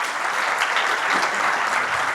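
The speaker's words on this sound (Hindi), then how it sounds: "संदीप जी के लिए एक बार जोरदार ताली।" A dense, even roar of audience applause at a live event, sustained and fairly loud throughout with no voices.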